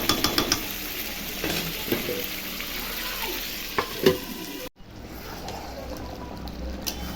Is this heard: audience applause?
no